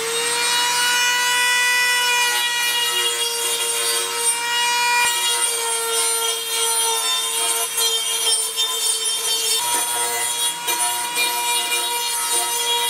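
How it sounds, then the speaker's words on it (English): A Dremel rotary tool cleans up the freshly cut end of a metal pole for a homemade camera jib, giving a loud, steady high-pitched whine with grinding rasp that runs for the whole stretch with no talk. "got it finished up on the Dremel so I don't hurt myself"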